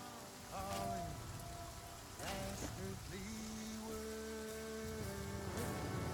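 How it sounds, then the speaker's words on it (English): Steady rain patters across a surface in the video game The Flame in the Flood, a constant wash of drops with soft tonal game music drifting over it. "I had been hoping that it would stop raining."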